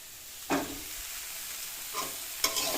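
Fish pieces and green chillies drop into a hot pan of oil with sharp sizzling bursts and stirring scrapes, three distinct surges over a steady background hiss, close and fairly loud, with no talk.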